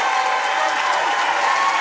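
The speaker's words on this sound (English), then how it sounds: "the Risco faithful giving Landon Baker a round of applause for a hard-played game here" A basketball crowd at a district championship game applauds a player fouling out, steady clapping from a packed gym that holds level under a commentator's voice.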